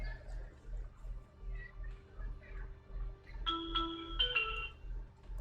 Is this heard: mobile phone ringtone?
yes